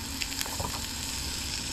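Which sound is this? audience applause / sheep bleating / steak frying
steak frying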